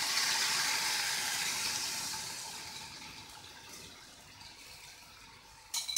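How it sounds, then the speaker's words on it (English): Stock poured into a cooking pot while a meat pie dinner is made, a steady watery rush that starts strong and slowly thins out over several seconds, with a short clatter right at the end. "So I think it's time to pour my stock inside."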